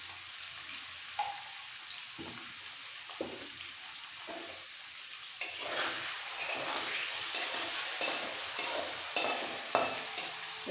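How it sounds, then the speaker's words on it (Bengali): Food fries in a pan with a soft sizzle while a utensil stirs and scrapes at intervals, growing louder and busier partway through; no one speaks. "একটু এপিট ওপিট করে ভেজে নেবো,"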